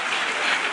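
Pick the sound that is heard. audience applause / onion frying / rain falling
audience applause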